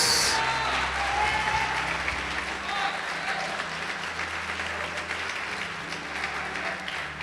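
A church congregation applauding during a sermon, a dense sustained roar of clapping from many hands that begins loud and settles slightly but continues steadily to the end.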